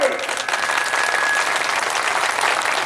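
An audience at a Hindu religious discourse celebrating Ram's birth breaks into loud, sustained clapping, a dense, even wash of many hands that stays strong throughout, with a voice briefly audible at the start.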